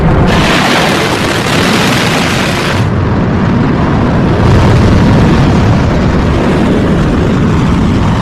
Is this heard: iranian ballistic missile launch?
yes